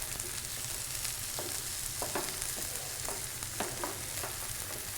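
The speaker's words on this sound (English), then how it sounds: "And you can hear the chicken sizzling away there." Chicken pieces sizzle steadily in a pan while cooking for a pantry risotto, a constant close frying hiss with scattered crackles and pops and no talking.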